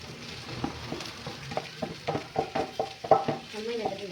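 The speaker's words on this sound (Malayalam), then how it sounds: "ഇതിലോട്ട് നമുക്ക് ഉരുളക്കിഴങ്ങും കോളിഫ്ലവറും വേവിച്ചതും കൂടി ഇട്ട് കൊടുക്കാം." Boiled potato and cauliflower stirred into a frying pan for stuffed chapathi filling, with soft repeated scraping and tapping strokes over a faint sizzle, close and fairly quiet.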